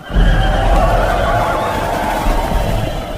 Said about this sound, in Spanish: los correos partieron a toda prisa a caballo